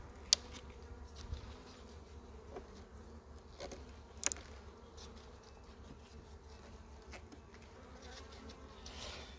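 Honeybees buzzing around a beehive that has lost its queen, a continuous low hum of many insects close by, with a few sharp clicks and knocks over it and no voices.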